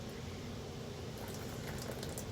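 Running water rinses fabric dyed with beet juice and begonia prints in a steady, close, soft wash of flowing liquid with faint trickles throughout.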